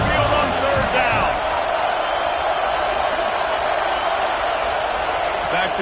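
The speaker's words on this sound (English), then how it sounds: "The Tide crowd rolling noise down on the Saban field on third down" Steady roar of a stadium crowd in the video game College Football 25, the Alabama home fans rumbling on third down at Saban Field, a loud continuous wash with a brief louder swell near the start.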